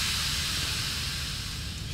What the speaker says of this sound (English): Stupid steam.